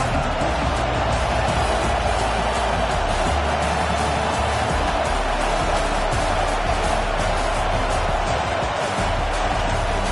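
Crowd roar fills a college football video game stadium, a loud steady wash of cheering that runs unbroken for the whole stretch with no clear peaks.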